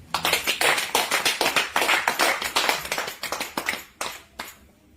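A church congregation claps in praise, dense rhythmic hand claps close by at steady volume, thinning to scattered claps near the end.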